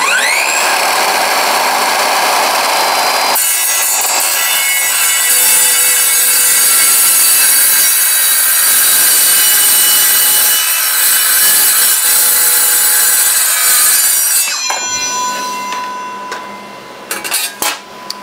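A power saw cuts a piece for a drill press mobile base, a loud, continuous whining cut that holds steady for about fifteen seconds before winding down.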